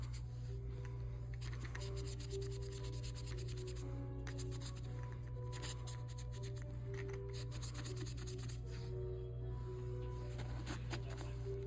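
A doll's face being scrubbed clean, a soft steady rubbing and scratching close up over a constant low background hum.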